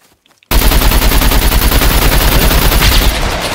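Automatic gunfire in the open-world survival shooter SCUM. After a near-silent moment, a rapid, loud, continuous stream of shots erupts and runs without a break to the end.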